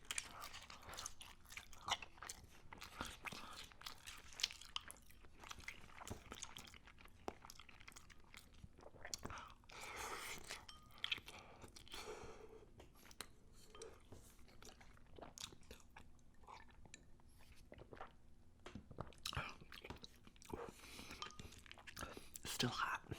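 Crunchy, wet chewing of hot baked mac n cheese with melted cheese and panko crumbs, close and steady through the whole stretch, with bites and soft mouth sounds layered over faint whispery breaths.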